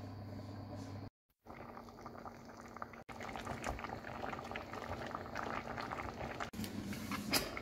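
Pasta simmering in broth in a covered pot, a steady bubbling boil heard close up, with a brief break and a couple of short gaps as the lid or pot is handled.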